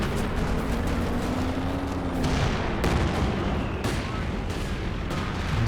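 Heavy perimeter overwatch artillery barrage in Company of Heroes 2, a dense rolling roar of shell impacts and booms that stays loud and continuous, with several sharp blasts standing out.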